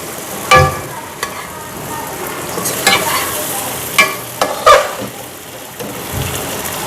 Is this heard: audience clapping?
no